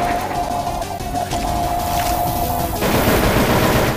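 Sustained automatic gunfire from the zombie shooter Left 4 Dead 2 in the Dark Carnival fairground, a dense continuous rattle of shots at close range that grows heavier in the last second, with no talking.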